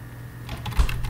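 A computer keyboard is typed on at a desk during game programming, giving a short run of quick soft key taps over a steady low hum.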